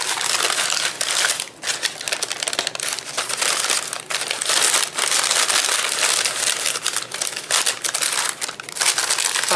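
Plastic bag being stuffed down into a Halloween goodie bag, giving loud, continuous close-up crinkling and crumpling that rustles steadily throughout.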